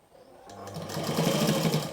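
An electric sewing machine stitches piping onto fabric, its close, steady whirring motor starting after a short pause and running continuously as the needle works.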